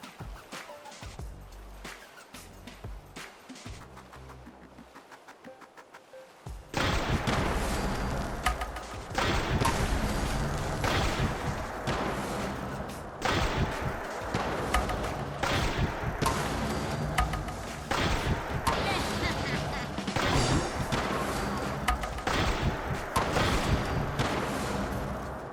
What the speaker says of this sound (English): This weapon fires a small disc and which explodes on impact.